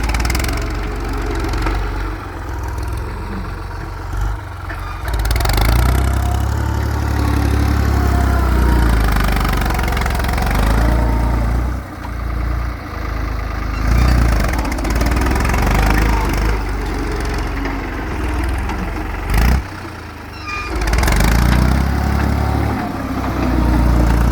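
A New Holland TT55 farm tractor's engine runs steadily at idle nearby, a low continuous rumble with faint mechanical clatter, holding fairly even through the whole stretch with slight swells and dips.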